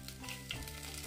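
Whole cumin seeds and bay leaf hit hot ghee in a pan for a Bengali parwal and paneer curry, giving a steady close crackling sizzle over a faint musical background, with no voices.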